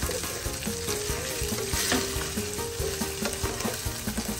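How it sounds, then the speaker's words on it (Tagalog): Bagoong shrimp paste frying in a pan outdoors, a dense steady sizzle with scraping and stirring clatter throughout, close and fairly loud, no talking. "Piprito naman natin."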